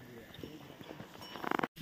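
Hooves of horses or mules clop steadily along the mountain path to the Sem Mukhem Nagraja temple in Tehri Garhwal, with a quickening burst of steps near the end under the murmur of nearby voices.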